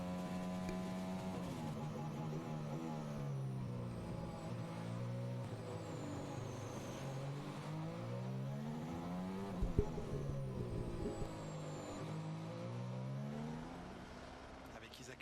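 Formula 1 car in qualifying at the Mexico Grand Prix accelerating out of slow corners, engine note rising and falling through repeated upshifts, steady and moderately loud with commentary over the top.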